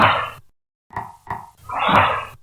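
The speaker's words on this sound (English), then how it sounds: "So the knocks that you hear in this next clip were not made by us" Unexplained knocks on a door during a ghost hunt, several loud close thumps in a short irregular cluster with a pause after the first.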